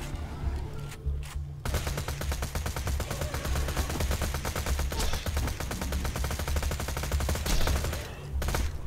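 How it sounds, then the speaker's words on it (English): Rapid automatic gunfire from a weapon in Borderlands 2 shooting at a small rock, a dense, loud, continuous burst of shots lasting several seconds with a brief pause near the start. "I'm just gonna shoot this small rock here"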